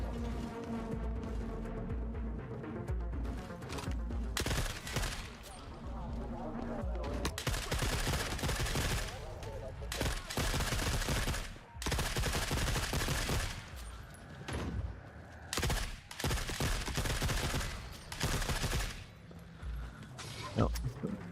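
Bag Man blasts an RPD machine gun in The Forever Winter game, long sustained bursts of heavy automatic fire broken by short pauses, loud and close, with other battlefield noise underneath.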